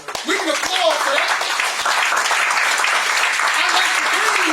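Audience applause at a Nation of Islam gathering, a burst of many hands clapping that quickly swells and holds steady, with a voice speaking over it at times.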